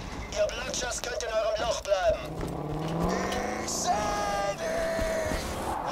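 A car is driven in the video game Borderlands 2, its engine droning and shifting pitch across the whole stretch while people talk over it.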